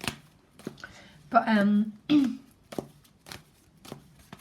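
Tarot cards being shuffled with quick riffling, papery bursts between bits of nearby talk.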